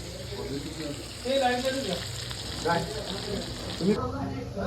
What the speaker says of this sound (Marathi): बांगड्याला रव्यामध्ये फ्राय करतोय आम्ही.